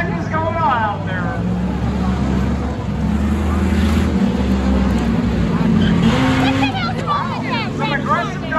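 Race cars roar and drive aggressively around a track during a Labor Day pace car crash-and-bash event, engines loud and continuous, with a crowd murmuring and a voice talking over the noise.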